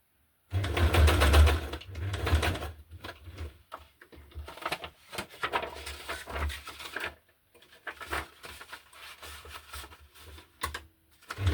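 A sewing machine runs a zigzag stitch while a hardcover junk journal is being sewn, giving off bursts of rapid mechanical clatter that start, pause and restart, with short quiet gaps between runs.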